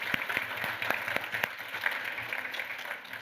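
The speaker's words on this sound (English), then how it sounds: "So a quick applause for all of our staff." Brief, scattered applause from an award ceremony audience at a university event, a thin patter of claps with a few sharp individual hits, fairly faint and distant, continuing steadily without voices over it.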